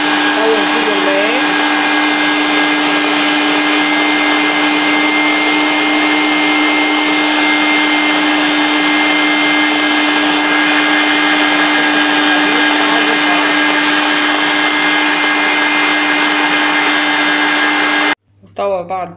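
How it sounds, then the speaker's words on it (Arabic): An electric mixer beats génoise sponge batter with a loud, steady motor whine that runs nonstop for about eighteen seconds, then cuts off abruptly. "نخدمو تاع الباتور، نبدو بالتدريج عالية في السرعة"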